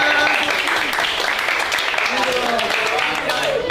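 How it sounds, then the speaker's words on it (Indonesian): High school students clapping in a classroom, a steady, loud round of applause with voices talking over it throughout. "Tepuk tangan buat semuanya."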